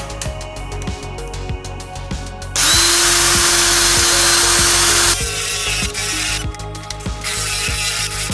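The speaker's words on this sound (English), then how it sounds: "So we'll put the paddle bit in our drill." A power drill with a paddle bit bores a hole in closet material, the motor whining in loud bursts with changing pitch and rattling, grinding contact between runs, no talk.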